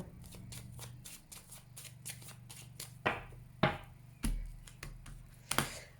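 A deck of tarot cards riffled and shuffled with a quick series of soft flutters, then a few sharper slaps and taps as the deck is cut and squared, quiet and close.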